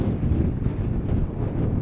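Strong wind buffets the microphone with a dense, steady low roar at a windy hilltop camp on East Mill Tor.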